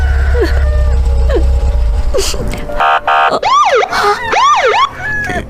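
Police car siren wailing in rising and falling sweeps, loud and close, preceded by short chirping tones over a low engine rumble in a dramatized street scene.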